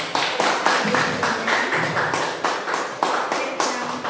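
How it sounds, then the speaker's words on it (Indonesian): Rhythmic group clapping from participants in a school teachers' session on positive culture, steady repeated claps at an even tempo, fairly close and alone without talk. "tepuk tangan buat Bapak Ibu"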